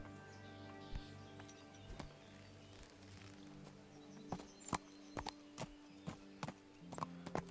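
Hooves clip-clop at a steady walking pace in the medieval video game Kingdom Come: Deliverance, a horse's footfalls landing in an uneven rhythm with faint outdoor ambience and a bird or two in the background.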